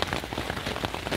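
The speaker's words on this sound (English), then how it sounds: "Rain hasn't stopped." Rain falls steadily on a tent at night, a dense close patter of drops with no voices.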